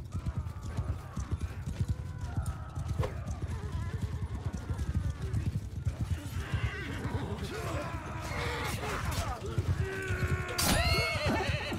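A horse in the Mount & Blade Bannerlord 2 video game clip-clops with steady rapid hoofbeats, then neighs and whinnies loudly near the end amid battle noise.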